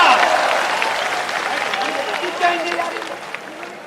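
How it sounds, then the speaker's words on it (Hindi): Applause from the audience at a Hindi comic poetry gathering, a broad wash of clapping that starts loud and slowly fades, with a voice speaking over it toward the end. "जोरदार तालियां"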